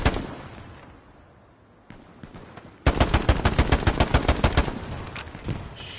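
Gunfire in the video game Hell Let Loose on PS5 comes as one loud shot, then a quiet stretch, then a close sustained burst of rapid automatic fire.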